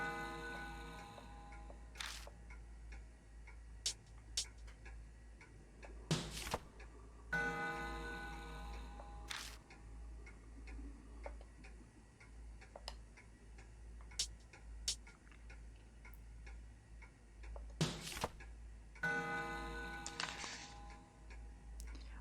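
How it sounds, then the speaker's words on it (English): An old clock in a horror video game ticks in steady, quiet clicks, broken by several brief louder clanks and mechanical bursts as its hands are turned. "When I spin the longhand, the clock makes a noise."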